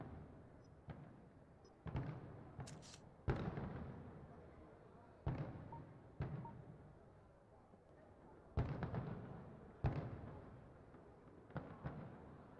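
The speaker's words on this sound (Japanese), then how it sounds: "花火打ち上がってる瞬間映すの難しいんだが。" Video game fireworks launching and bursting in a series of sharp booms with short trailing crackle, spaced irregularly across the scene over a low background rumble.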